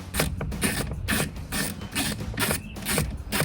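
A ratchet tightens a 7mm bolt on a Silverado 1500 towing mirror, a close series of rapid clicking bursts in a quick rhythm, alone without speech.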